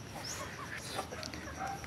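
Chickens cluck softly at a distance, with scattered short calls over a low background hum.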